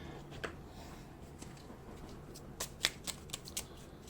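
Oracle cards being shuffled, a soft papery riffle with a few brisk flutters bunched toward the end, quiet and close with no talk.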